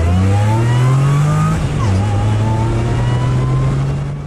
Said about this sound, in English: First off, the blower sounds great.